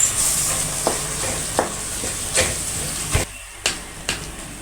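A ground tomato paste and mint mixture fries in a pan with a continuous hiss and sizzle, punctuated by periodic scrapes and stirring knocks, close and fairly loud, with no speech.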